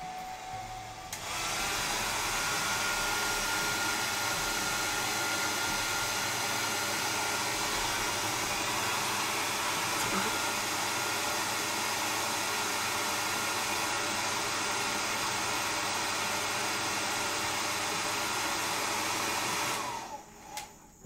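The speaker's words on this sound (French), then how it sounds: "Et sèche-cheveux." A hair dryer blows steadily and loudly for about twenty seconds to dry paint on a miniature figurine, a constant airy roar that starts and stops abruptly, with no talking.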